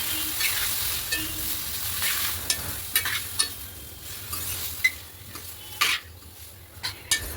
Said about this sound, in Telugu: టమాటోలను అయితే ఇందులో వేసుకోండి వేసుకొని బాగా కలుపుకోండి